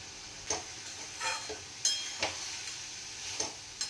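Fried fish being stirred into a sizzling spice paste in a pan, with a soft constant sizzle broken by about half a dozen separate scraping strokes of the spatula.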